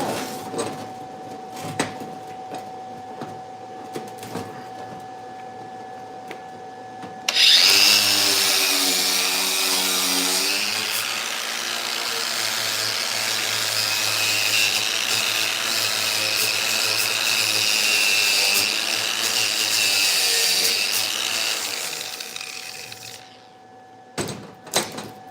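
Wire brush scrubbing off a rough weld during a quick repair job, a loud sustained harsh brushing or grinding roar lasting most of the stretch, with quieter tool clatter before and after.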